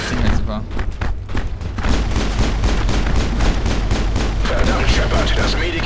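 Rapid bursts of gunfire from a sci-fi shooter game, Mass Effect, crackle steadily throughout amid dense combat noise, with a voice talking in the game over the shots.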